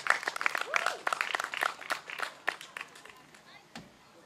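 A live audience claps for a band at a concert at a Heinola spa, scattered and moderate at first, then thinning out toward the end with voices faintly underneath.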